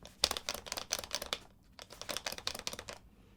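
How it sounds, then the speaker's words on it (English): Peak Design Capture Clip V3 with its camera plate rattling and rubbing, a quick run of small hard clicks and taps in bursts with a brief pause, close and fairly quiet, no voices. "That is the sound of the plate banging or rubbing against the clip."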